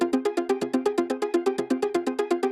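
Rapid, evenly spaced synth plucks built from a sampled track repeat in a steady rhythm, each short note with a bright attack and quick decay, loud and alone with no voices.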